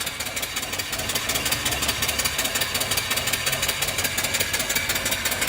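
A live mill steam engine runs off a 12-inch boiler, giving a steady, even mechanical chugging with fast rhythmic knocks and a hissing wash over the top, close and continuous with no talk.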